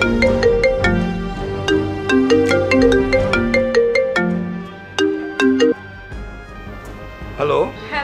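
A phone ringtone plays a repeating melodic pattern during an outgoing call, clear and fairly loud, cycling several times before stopping near the end.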